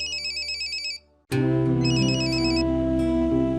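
A telephone rings loudly and close by, an electronic ringtone with a repeating warbling pattern that stops briefly and then starts again, with no talking over it.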